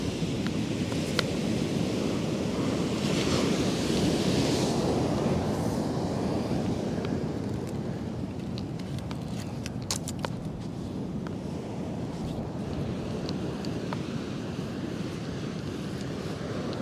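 Ocean surf rolling onto the beach at Kilcunda, a steady broad wash of waves with gusty wind on the microphone, continuous and moderately loud with no talk.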